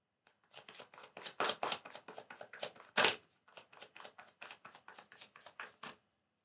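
Rapid papery riffling of tarot cards being shuffled, in a quick series of crisp bursts with short pauses between them, close up and without talk.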